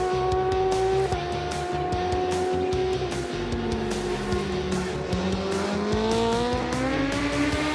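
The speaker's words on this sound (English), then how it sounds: "Clinton Seller out front, sliding that rear Bridgestone R11 tire as he heads into the final corner" ZX10 superbike racing at Kyalami, rear Bridgestone R11 tyre sliding into the final corner: a loud, continuous high-revving engine whine that shifts pitch as the bike brakes and accelerates, with other bikes' engines layered behind it.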